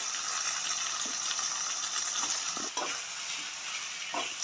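Brinjal sautéing in oil with onion and tomato for a masala, a steady soft sizzle with a few light stirring clicks and scrapes, close and continuous with no talking.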